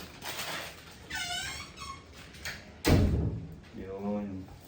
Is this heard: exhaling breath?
no